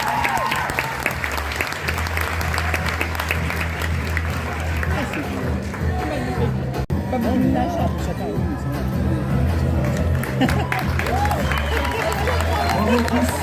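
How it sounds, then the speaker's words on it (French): Sustained applause from the crowd at a graduation ceremony, clapping mixed with murmuring voices and chatter that continues throughout the scene. "vous pouvez encore les applaudir très fort."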